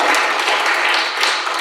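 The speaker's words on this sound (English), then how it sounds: "feel free to clap if you want to clap." An audience claps at a public discussion on COVID lockdowns, a brief, dense burst of many hands that stays loud and fairly even throughout, with no talking over it.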